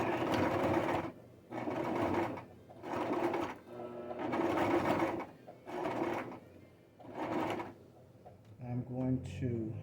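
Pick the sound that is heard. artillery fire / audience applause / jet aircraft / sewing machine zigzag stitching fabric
sewing machine zigzag stitching fabric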